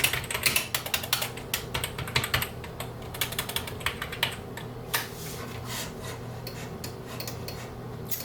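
Fast, uneven typing on an old Mac keyboard, plastic keys clattering close up in irregular bursts for several seconds with short pauses between runs.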